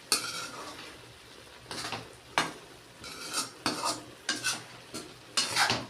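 Utensil scraping and stirring moringa and eggplant in a cooking pan, with repeated metallic scrapes in uneven bursts over a quiet background sizzle, close up, no talking.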